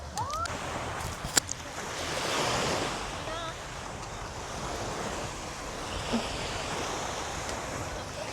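Sea waves wash continuously at a seaside restaurant in Thailand, a soft, broad surf hiss mixed with gusts of wind buffeting the microphone.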